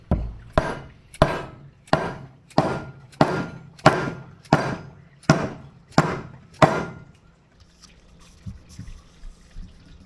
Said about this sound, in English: So we're just going to take this, a little tap tap. Just tap it in.